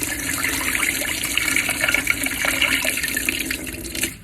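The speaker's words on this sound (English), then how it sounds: "we're gonna pour off the starch." Starchy water from rinsed white rice pours off steadily in a kitchen, a continuous loud splashing stream that stops abruptly near the end.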